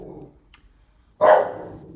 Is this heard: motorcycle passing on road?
no